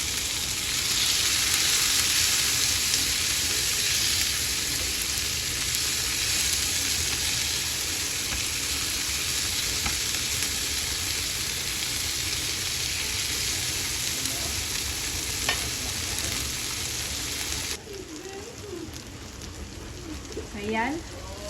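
Tomatoes and aromatics sautéing in a pan for ginisang munggo, giving a steady close sizzle that runs loud and unbroken before dropping quieter near the end, with faint stirring and no talk.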